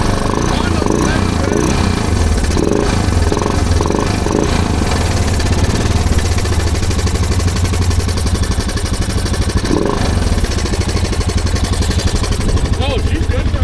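Honda off-road motorcycle engine running steadily throughout, a loud continuous rumble outdoors on muddy trails with voices talking over it.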